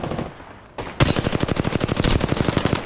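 Gunfire from the battle royale game Apex Legends: a short burst of single shots, then a loud, steady rapid-fire automatic stream that runs for the rest of the moment, close and dominant with no talk over it.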